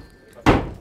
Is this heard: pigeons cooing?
no